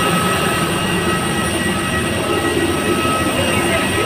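A passenger train rolls in with a steady, loud rumbling roar of wheels on rails, continuous and unbroken, heard close from on board or beside the track.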